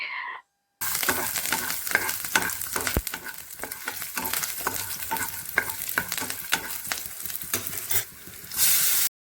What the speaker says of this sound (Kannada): ಹಸಿ ಹಸಿಮೆಣಸಿನ್ಕಾಯಿ ಹಾಗೆಯೇ ಸ್ವಲ್ಪ ಕರಿಬೇವನ್ನ ಹಾಕ್ಕೊಂಡು ಚೆನ್ನಾಗಿ ಹುರ್ಕೋತಾ ಇದ್ದೀನಿ